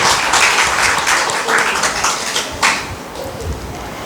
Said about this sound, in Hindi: ताली बजाओ अपने लिए।